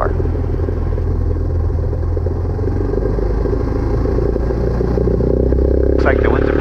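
A small training airplane's engine roars at full takeoff power, a steady loud droning rumble that runs continuously throughout, with voices faintly audible underneath.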